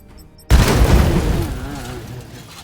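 Weapons fire in the video game Warhammer 40K Chaos Gate, a sudden heavy boom with a rumbling tail that fades over about two seconds.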